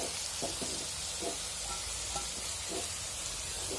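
Fatty pork frying in oil in a pan, a steady sizzle with occasional stirring scrapes, close and continuous with no talk.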